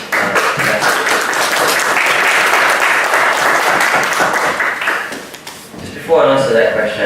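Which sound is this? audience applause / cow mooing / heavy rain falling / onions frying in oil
audience applause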